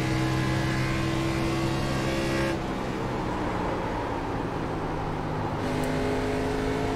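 Race car engine in iRacing, a B Class Fixed car at Darlington: a loud, steady engine drone with strong tonal harmonics that briefly drop to a rougher, lower roar before the pitch returns.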